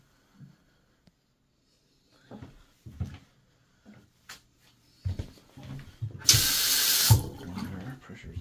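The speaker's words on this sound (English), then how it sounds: "Water pressure is good" A tap in a house bathroom runs in a short, loud burst of about a second, close by, with scattered knocks and handling sounds before it.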